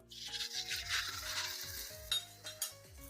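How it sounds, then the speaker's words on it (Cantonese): Faint sizzle and spatter as egg white is poured into a hot oiled wok, with soft scraping and a few light clanks of utensils. "熱鑊冷油啊，倒蛋白落去。"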